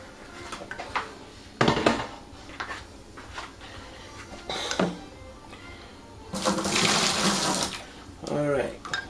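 Hot water is poured into a wine fermentation bucket in several separate bursts, splashing and running for a second or two each, with a longer pour near the end amid quiet handling noises.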